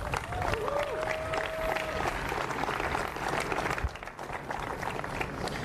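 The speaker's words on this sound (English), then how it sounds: "Let's give Don Garber a big round of applause." Crowd applause with cheering at a stadium opening ceremony fills the space, a whistle rising above it early on, the clapping thinning slightly toward the end.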